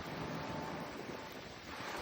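Strong wind roars in a constant, rough rush, buffeting the microphone with broadband noise and a low rumble throughout.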